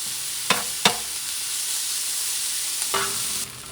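Food sizzles steadily in a hot frying pan while caramelizing for a wild boar rice picadillo, with a few sharp scrape-and-clack stirring sounds breaking the constant hiss.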